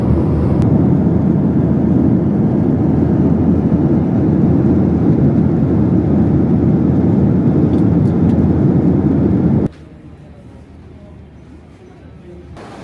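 Inside a JAL airliner cabin in flight, a loud, constant low roar of engine and air noise fills the space, then drops abruptly to a much quieter hum near the end.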